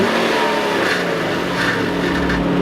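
A straight-piped Infiniti G35x with 195,000 miles revs loudly and close, a raw, rasping exhaust note that rises and swells in steady pulls with no voices.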